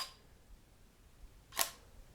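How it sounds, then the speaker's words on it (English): A single-lens reflex camera shutter fires once, a short crisp mechanical click in a quiet room, standing alone after a faint earlier tick. "flip it across like that by pressing the shutter"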